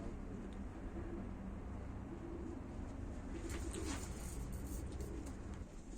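Seferli tumbler pigeons coo faintly and steadily in the distance, buried under a constant hiss of background noise, with no talking.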